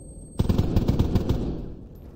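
An AK rifle in DayZ fires a rapid burst of about eight loud, close shots in quick succession, then the sound rings out and fades into a lingering echo.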